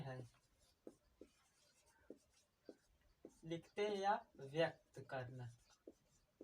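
Writing out a number as a power of ten during a maths lesson on standard form: brief, scattered scratchy strokes, then a voice talks partway through.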